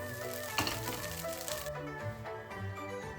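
Egg fried rice with scallions tossed in a hot pan, a short burst of close sizzling and rustling grains that settles quieter after a moment.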